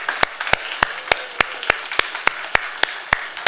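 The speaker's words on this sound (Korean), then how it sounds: "우리 감사의 박수 한번 하겠습니다." A church congregation gives a round of thanks-applause, heard as a steady, fairly loud wash of many hands with a regular, evenly spaced beat of sharp unison claps running through it.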